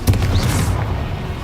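A Confringo blasting spell exploding in the video game Hogwarts Legacy, a single loud close boom with a deep rumbling tail that fades over a second.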